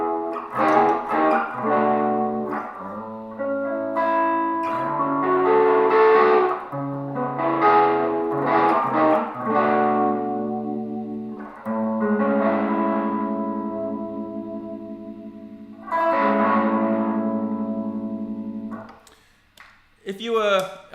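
A Gretsch electric guitar on the neck pickup with the tone rolled off plays jazzy chord stabs and sustained chords, warm and mellow, loud and alone, with short pauses between phrases.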